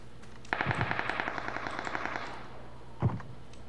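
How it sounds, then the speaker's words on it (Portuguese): Enemies open fire in a video game: a rapid, sustained burst of automatic gunfire for about two seconds, then a short pause and a single shot, loud and close, with no talking over it. "Olha os caras atirando."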